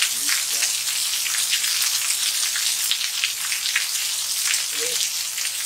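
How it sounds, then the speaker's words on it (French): Heavy rain from Hurricane Isaias pours steadily and loudly in a dense, continuous hiss with scattered drips, a constant downpour close by with no break. "Effectivement, il pleut de plus en plus."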